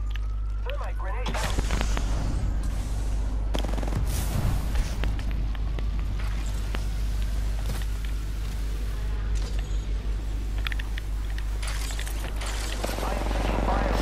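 Rapid gunfire and explosive impacts from the battle royale video game Apex Legends, dense bursts of shots over a steady low game hum with no speech.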